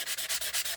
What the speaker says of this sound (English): it's a sanding block for nails